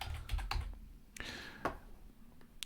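A crossword answer is typed on a computer keyboard as a short run of close, soft keystrokes with uneven spacing, heard alone in a quiet room.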